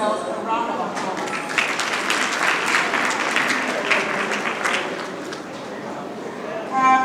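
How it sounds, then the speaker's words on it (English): Audience applause fills a hall at a remembrance ceremony in Ogun State: a sustained, crackling round of many hands clapping that swells in the middle and fades, with voices at the edges. "I want you all to give yourselves a round of applause."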